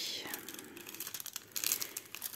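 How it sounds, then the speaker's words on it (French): Scissors snipping a small square from a diamond painting canvas, a soft crinkle of plastic-coated film with light tearing and cutting sounds, quiet and close, with faint whispering breaths. "Découper mon petit carré."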